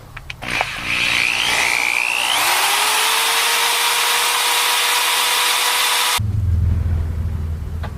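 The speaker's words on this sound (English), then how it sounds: "the way I'm doing that is just taking a drill here and spinning the pump up" A handheld drill spins a fuel pump to prime it, whining up steadily and holding a loud, continuous high drone for several seconds, then cutting off into a low rumble.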